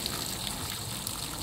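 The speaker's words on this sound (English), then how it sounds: "that final flush off, that final rinse" Water rinses silicone off in a steady, soft, continuous gush with no talking.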